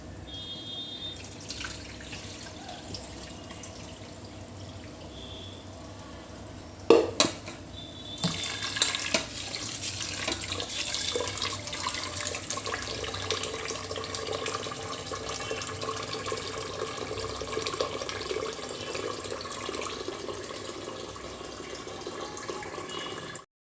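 Tap water runs steadily into a sink while rice is rinsed, a continuous hiss of flowing water with a few sharp clunks near the start and drips, close and moderately loud without talk.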